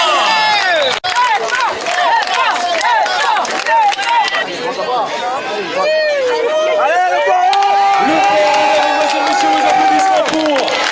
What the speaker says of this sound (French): les applaudissements pour Trois-Bassins